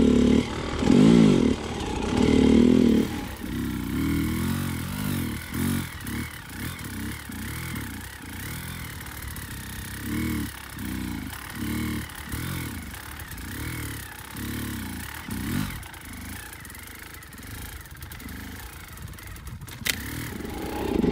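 An enduro motorcycle engine held at low speed while the rider slips the clutch, a loud close rev at first settling into a pulsing, wavering drone with clattering mechanical noise and a sharp sound near the end.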